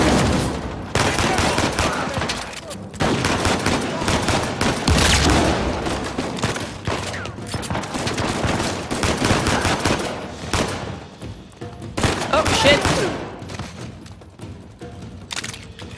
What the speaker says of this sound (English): There's too many people shooting at me right now.